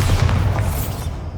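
Bombarda spell blast in Hogwarts Legacy, a loud close boom with a deep rumbling body that rolls out and fades over about a second.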